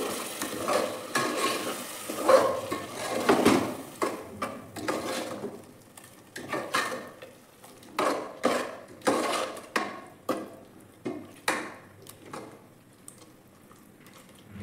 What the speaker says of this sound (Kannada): ಇದು ಹಸಿ ಸ್ಮೆಲ್ ಹೋಗೋವರೆಗೂ ಸ್ವಲ್ಪ ಫ್ರೈ ಮಾಡ್ಕೊಳ್ಳೋಣ ಇದನ್ನ